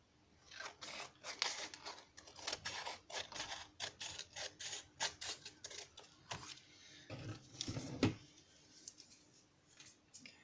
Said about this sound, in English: And I'll just cut into where the folds are.